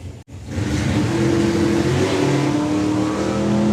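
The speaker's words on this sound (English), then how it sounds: "Big old throttle stop for Dave Fulton there" A drag racing car launches and accelerates hard down the strip at a national finals event, its engine a loud sustained roar climbing in pitch after a brief cut at the start.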